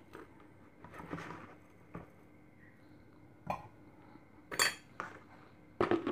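A metal spoon scooping tea powder for iced lemon tea, clinking against a container and glass in a few sharp, close taps between quieter scraping.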